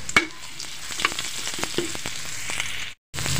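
Ginger sizzles and crackles in hot oil at the start of a catfish dish, loud close frying with sharp pops and stirring clatter, then a brief silence before the sizzle resumes.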